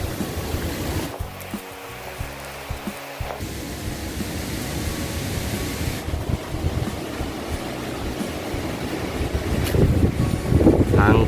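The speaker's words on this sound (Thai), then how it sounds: "ลมแรงมากเลยครับ" Strong wind gusts across a clifftop at the summit of Phu Thok mountain, Thailand, a continuous roaring rush with heavy buffeting against the microphone that swells louder toward the end.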